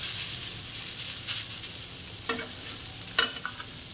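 Snake gourd stir-fried in a pan, a soft steady sizzle broken by a few sharp scraping stirs of the spatula, close and unaccompanied by speech.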